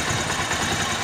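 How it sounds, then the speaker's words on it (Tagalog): Kubota-style R180 single-cylinder diesel with a leaking valve runs hot and rough, a close, loud, steady chugging idle with rapid uneven pulsing, over about a second with no talking. "yung backfire nya hindi matanggal-tanggal, singaw yung barbula"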